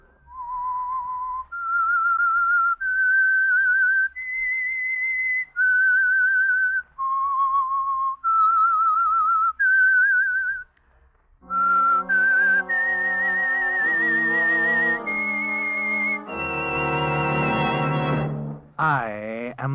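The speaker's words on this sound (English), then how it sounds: "That whistle is your signal for the Signal Oil Program" A whistled theme signalling the start of a radio mystery program, a lone whistler holding a slow, sustained melody of separate notes, then joined by a swelling orchestral passage that ends in a sweeping flourish.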